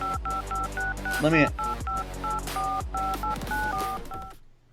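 A rapid run of telephone dialing tones sounds as phone lines open on a sports talk show, crisp, evenly spaced beeps with a brief burst of other electronic tones partway through, ending abruptly.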